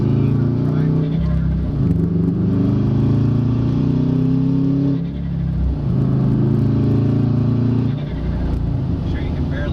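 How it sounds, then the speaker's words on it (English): A car engine drones and revs as the car accelerates in repeated surges, loud and close with a rising pitch, while someone talks over it. "I'm sure you can barely hear me over the motor there when I'm accelerating"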